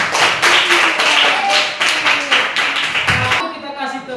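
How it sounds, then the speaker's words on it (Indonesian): Group of people clapping in a classroom setting, a steady burst of applause lasting a few seconds with overlapping hand claps, fairly close, fading near the end. "bagus tepuk tangan"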